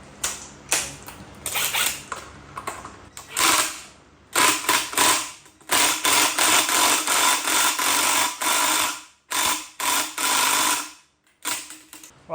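A ratchet runs nuts down on a Harley-Davidson Evo motor during a build, giving bursts of close mechanical clicking and rattling that stop and start with short pauses.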